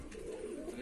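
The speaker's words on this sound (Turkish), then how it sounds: "Biri içeride kümesle ötüyor." A pigeon coos softly inside a coop in a brief, low, murmuring call, faint and somewhat distant.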